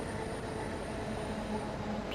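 Class 465 electric train braking into a station on a Dartford service in Train Sim World 2, a steady rolling rumble with faint brake tones and a light squeal near the end.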